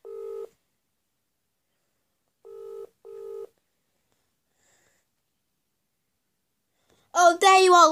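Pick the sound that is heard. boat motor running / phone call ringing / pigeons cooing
phone call ringing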